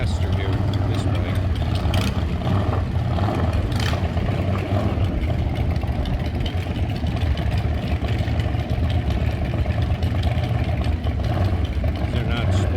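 A big cruiser-style motorcycle engine runs at a drag strip, a loud, steady, low rumble that fills the whole stretch with no clear revving peaks. Talk and crowd noise are likely mixed in.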